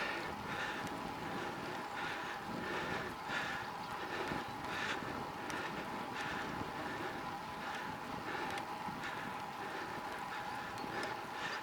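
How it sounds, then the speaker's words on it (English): Steady wind rushing and buffeting the microphone while cycling outdoors on quiet roads, a continuous loud roar with no talk. "Our wind's picking up now"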